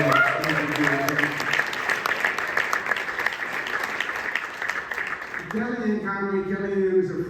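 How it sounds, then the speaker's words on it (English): An audience at a National Italian American Foundation gala applauds John Calvelli, steady dense clapping filling the room, with a voice speaking over it and rising again near the end. "let's give him a round of applause"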